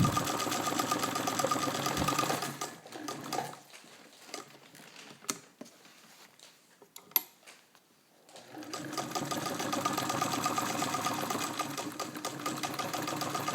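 A Singer 66 crinkle-finish sewing machine, upgraded for very heavy duty, stitches through thick layers of leather at moderate speed: a steady, close mechanical whirring that pauses briefly midway, leaving a few clicks, then resumes and runs on continuously.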